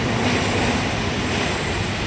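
A train passing by, a steady, loud broadband rumble and rush of rail noise that holds evenly throughout with no break.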